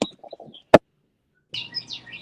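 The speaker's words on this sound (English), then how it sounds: "With the beautiful chirping in the background, which I'm gonna leave." Small birds chirp outdoors in short, bright calls: a few near the start, then a busier burst of twittering at the end, moderately close, separated by a sharp click and a quiet gap.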